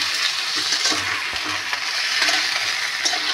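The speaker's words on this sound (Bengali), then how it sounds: "সবজিগুলো যেহেতু ভাজা হচ্ছে" Vegetables, potato among them, fry in turmeric and salt in a wok for Bengali shukto, a steady close sizzle with faint stirring scrapes throughout.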